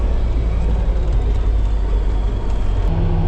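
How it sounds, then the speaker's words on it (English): Traffic passes on a rural farm road in Amish country, a steady low rumble of a vehicle going by up close, loud and continuous with no talk. "Got some traffic here."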